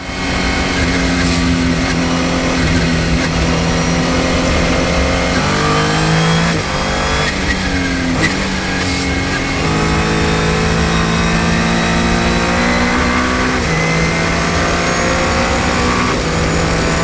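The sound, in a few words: race cars driving on track during Saturday warm-up session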